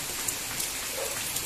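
Monsoon rain falls steadily outdoors, a dense, even patter of drops on surfaces, moderately loud and unbroken, with no voices.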